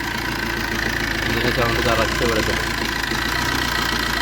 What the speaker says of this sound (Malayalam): എഞ്ചിൻ്റെ സൗണ്ട്